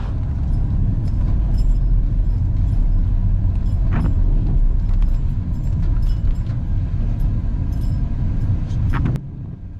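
A car crosses a railway level crossing on a rural road near Holton le Moor in Lincolnshire, giving a steady, loud road rumble with a few sharp clunks as it passes over the rails.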